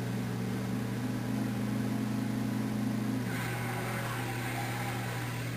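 A car in a game spins out while its engine revs in a steady mid-pitched drone that shifts tone partway through, loud and continuous, with no talk.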